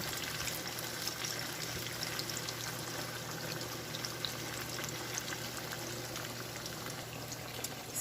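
Chicken pieces for biryani sizzle and fry steadily in hot oil, a continuous dense crackle with a low bubbling undertone, close and unbroken throughout.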